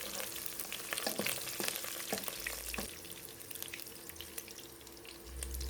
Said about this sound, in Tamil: சோம்பு பொரிஞ்சதுக்கப்புறம் 5 பல் பூண்டு ஆட் பண்ணிக்கிறேன். கருவேப்பிலை கொஞ்சம் போட்டுக்கிறேன், ஒரு கொத்து. இதை வதக்கி விட்டுக்கிறேன்.